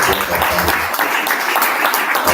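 Audience applauding presenters after talks at a panel event, a dense, loud wash of clapping that continues throughout the short span, with a voice briefly mixed in.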